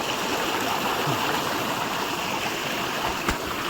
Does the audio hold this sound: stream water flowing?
yes